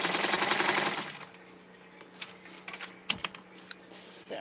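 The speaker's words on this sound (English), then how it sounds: "And you'll see here the sewing." Sewing machine stitching Barbie gingham doll clothes, whirring briefly at first, then giving short bursts of rapid ticking stitches and mechanical clicks, close and moderately loud.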